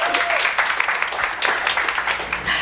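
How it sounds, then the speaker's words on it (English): An audience claps steadily for a speaker coming on stage at a panel event, dense continuous applause lasting throughout at a moderate, even level. "Let's give her a round of applause"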